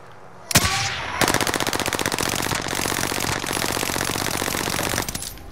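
Sustained rapid automatic gunfire in a video game, aimed at a helicopter, rattles loud and close after an opening crack, hammering in a long steady burst with brief breaks.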